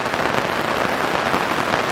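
Steady, dense rain patters onto solar panels at a campsite beside a teardrop trailer, a close, even hiss of countless drops with no pauses and no voices.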